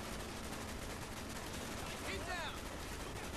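AK rifle fire in the Black Ops video game, a dense, continuous wash of gunfire and battle noise throughout with a brief higher whine midway.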